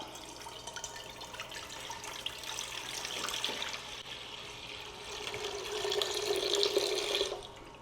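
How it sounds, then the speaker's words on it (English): Thirty-two ounces of water poured into a pot, a steady close splashing stream that grows fuller and rises in pitch as the pot fills, then stops abruptly. "So all you have to do is get 32 ounces of water, pour it in a pot."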